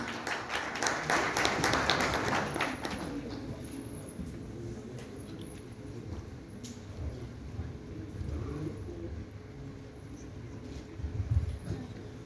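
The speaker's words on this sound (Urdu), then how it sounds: "آپ سب کی بھرپور تالیوں میں مختار بلوچ اور عزیز شہوانی۔" Applause from an audience welcoming two speakers to the stage at the Serena Hotel swells briefly at the start, then dies away into quiet room murmur and shuffling.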